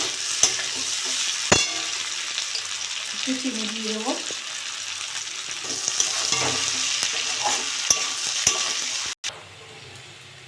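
Sliced potatoes for Bengali bituli aloo bhaja fry in a pan, giving a steady close sizzle broken by sharp clicks and scrapes as they are stirred. A voice speaks briefly over it, and the sound cuts off abruptly near the end.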